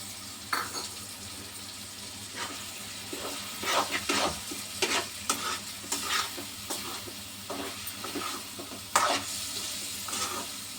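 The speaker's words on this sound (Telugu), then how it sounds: "చక్కగా ఇది మొత్తం కలిసేలాగా అల్లం వెల్లుల్లిపాయ పేస్ట్ మొత్తం ఈ కూర కలిసేలాగా ఒకసారి కలిపి" Ginger garlic paste being stirred into a bottle gourd and drumstick milk curry in a pan, with repeated scraping spoon strokes over a soft, steady simmering sizzle, close and without voices.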